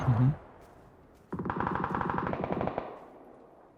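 A rapid burst of automatic gunfire in the video game PUBG rattles for about a second and a half, close and punchy, after a short quiet stretch.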